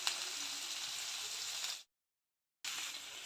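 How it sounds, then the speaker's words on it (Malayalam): Onion frying with salt in a pan for a Kerala-style dried fish curry, giving a quiet, steady sizzle that cuts out to silence for a moment and then returns. "ഇനി കുറച്ച് ഉപ്പ് ചേർത്ത് കൊടുത്തിട്ട് സവോള നന്നായിട്ടൊന്ന് ഫ്രൈ ആക്കി എടുക്കണം."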